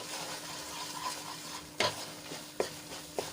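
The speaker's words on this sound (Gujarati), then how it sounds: "હવે આ દૂધ બળે ત્યાં સુધી આપણે એને હલાવી લેવાનો છે" Soft scraping of a spoon stirring a thick flour and milk mixture in a pan over a low sizzle, with a few sharper clinks against the pan's side.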